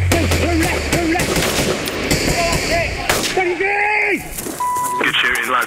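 Royal Marines fire rifles and machine guns rapidly, with dense bursts of gunfire, while voices shout over the shooting and a radio-like beep sounds near the end.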